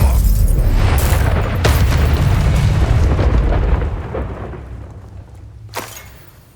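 A fire spell, Incendio, in the video game Hogwarts Legacy: a loud, roaring whoosh of flame bursts out and sustains for several seconds, then slowly dies away, with one more sharp burst near the end.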